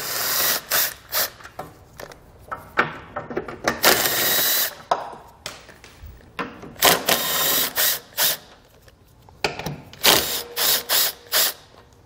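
A ratchet wrench loosening 13mm bolts from the bumper beam of a 2015 Volkswagen Golf, rapid clicking bursts in short runs separated by pauses, loud and close with no talking.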